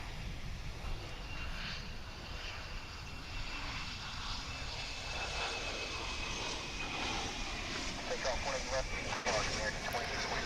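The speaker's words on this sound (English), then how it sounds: "We have a plane in takeoff position." An American Airlines Airbus A321 airliner taking off at Dallas/Fort Worth International Airport, with a steady, broad engine roar filling the whole stretch and swelling slightly toward the end.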